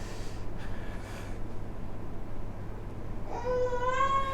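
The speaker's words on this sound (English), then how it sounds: "So that's a baby cry." Baby crying played as a sound-event example, a short wailing cry with stacked harmonics entering in the final second over a steady low hum, loud and close.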